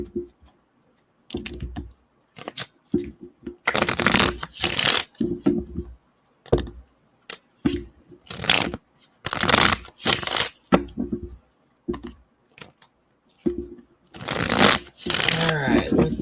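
A deck of tarot cards is shuffled in repeated quick riffling bursts, crisp and close, separated by short pauses.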